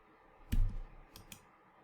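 The escape key is pressed on a computer keyboard during ESXi host configuration, giving one soft thudding keystroke followed by a couple of faint, light clicks. The sounds are quiet and close against a low background hiss, with no speech.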